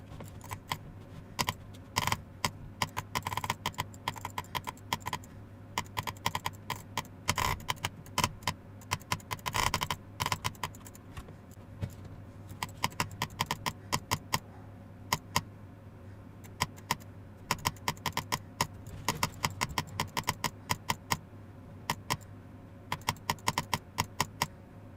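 Crisp mouse clicks while a Geometry Dash macro is recorded arrive in rapid, irregular clusters and single taps, close and clean over a quiet low hum, with no game audio.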